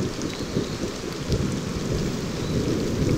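Steady heavy rain with rumbling thunder over the Serengeti savanna during the arrival of the rainy season, a dense continuous downpour with low rolling booms throughout, no voices.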